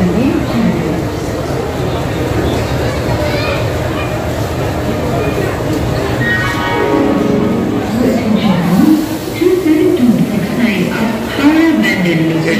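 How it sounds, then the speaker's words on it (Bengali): Amritsar Mail train pulling in at platform 9 of a busy station, a steady rumble and rolling wheel noise with a rising whine, under ongoing crowd chatter and nearby talk. "এই যে আমাদের ট্রেন এসে গেছে অমৃতসর মেল।"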